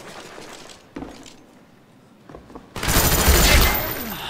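A FAMAS rifle fires in Call of Duty Black Ops: a few scattered shots over a quiet background, then a loud, dense burst of rapid automatic gunfire close up near the end.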